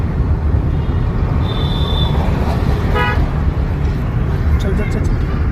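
A car engine revs during a driving lesson at a driving school in Gohana, a loud, steady low rumble of engine and road noise filling the whole stretch, with a short high toot and a brief tonal blip partway through.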